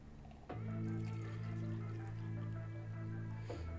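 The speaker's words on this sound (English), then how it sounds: "we're going to add the water from the line there up to the line on the 1" Water pours steadily into an Aeropress coffee maker, a continuous close splash and trickle that starts abruptly, runs for about three seconds and then stops.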